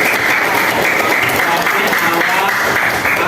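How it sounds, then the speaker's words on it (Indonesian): Sustained dense applause from a classroom audience of teachers fills the whole stretch at steady loudness, a broad wash of many hands clapping with little variation. "Kasih tepuk tangan."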